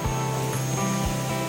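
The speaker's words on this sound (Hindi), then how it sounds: "अब इसमें पानी डालूंगी।" Water poured into a pan of potatoes and oil-released fried spices on a home stove, a steady close hiss and splashing wash running throughout.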